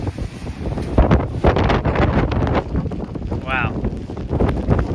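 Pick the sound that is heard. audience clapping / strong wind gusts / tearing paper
strong wind gusts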